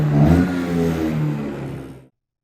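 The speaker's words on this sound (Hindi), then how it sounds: "स्कूटर की आवाज सुनो," Scooter engine revving loudly and close, a rough rising-and-falling buzz for about two seconds that cuts off abruptly into silence.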